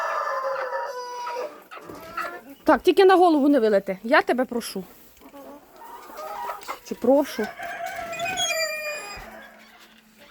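Hens cluck and murmur close by, scattered short calls running under a person talking throughout.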